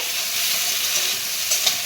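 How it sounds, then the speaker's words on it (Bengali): Steady sizzling of potatoes and Malabar spinach stalks frying in a hot pan, a loud, even crackle with faint stirring clicks. "আলু পুঁই শাকের ডাঁটাগুলো ভালো করে ভেজে"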